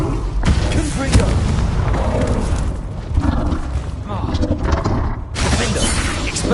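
In Hogwarts Legacy on PS5, a Confringo blasting spell erupts in a dense, booming explosion with crackling, shattering debris, heavy and close, blending into continuous combat noise with a spoken voice over it.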